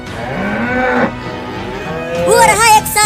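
A cartoon bull gives a loud, drawn-out moo in a Hindi animated comedy, the low call rising and then breaking into a higher, wavering bellow, with no talking over it.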